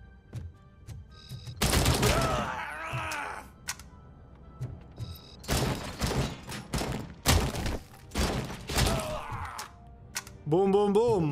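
Video-game gunfire comes in several loud bursts of rapid shots and heavy thuds, with short quiet gaps between volleys and some in-game voice near the end.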